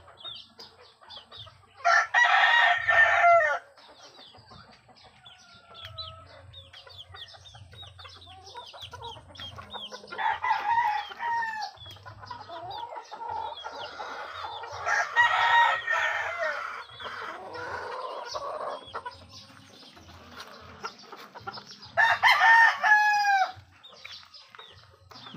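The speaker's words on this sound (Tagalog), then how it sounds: "Napakalaking manok nito guys, tangkad niyan." Large chickens in a farmyard flock cluck steadily while a rooster crows loudly several times, with bursts near the start, middle and end.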